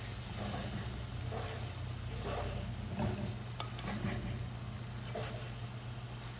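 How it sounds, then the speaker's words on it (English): Okra pods stuffed with a sattu filling fry uncovered over medium heat in a pan, giving a soft continuous sizzle with occasional stirring scrapes, fairly quiet and steady throughout. "stir it, and now it's going to cook another 10-20 minutes uncovered on medium heat"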